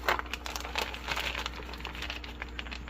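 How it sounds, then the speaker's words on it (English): Crinkling plastic of a U.S. military MRE food packet being ripped open, a steady close rustle and crackle running the whole time with a faint hum underneath. "Let's just start ripping right in here."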